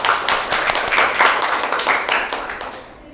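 A classroom of students claps together for a classmate, a dense burst of many hands that stays steady and close, then gradually thins and fades toward the end with no speech over it.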